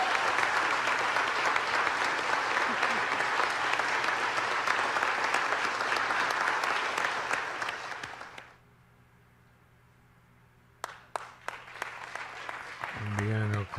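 Loud, sustained applause from a large crowd at a Los Angeles City Council meeting fills most of the clip, then fades abruptly into near silence, followed by a few scattered knocks and a short hum.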